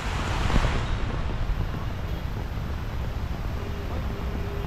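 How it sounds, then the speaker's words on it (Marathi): Heavy monsoon rain pours in Pune, a dense, steady roar of downpour with wind buffeting close to the microphone throughout. "आणि अजून पावसाच्या धारा चालूच आहेत"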